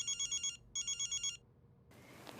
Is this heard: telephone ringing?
yes